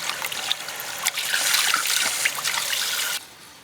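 Beef bones are rinsed under running water, a soft close trickle and splash lasting a few seconds before cutting off abruptly.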